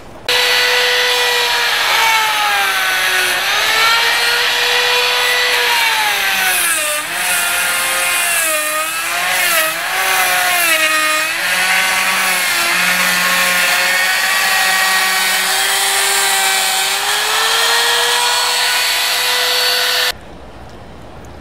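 A router fitted with a straight bit trims laminate on a countertop corner, whining loudly and steadily for about twenty seconds with the pitch dipping and wavering as it cuts, then stopping abruptly.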